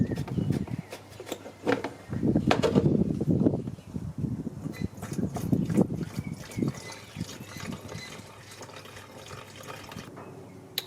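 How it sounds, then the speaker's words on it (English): Tap water is poured into a reservoir under the bonnet of a Nissan Patrol GU Y61 4WD, a close, gurgling trickle that rises and falls in bursts with brief pauses. "a little bit low, so I'm just going to top it up with some water."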